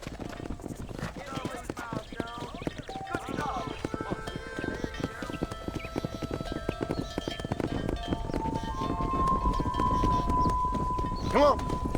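Horse hooves clip-clop steadily through a ranch scene in the Western video game Red Dead Redemption, a busy rhythmic trot running under a bed of game music, ambience and occasional spoken lines.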